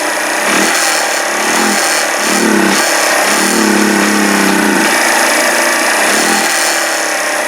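A small engine runs warm on partial choke, rough and unhappy, with an uneven loud buzzing drone that surges and sags in irregular pulses, close by and alone.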